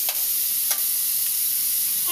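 Onion and ginger paste masala fries in a pan, a close, loud hissing sizzle broken by a few scraping strokes of stirring.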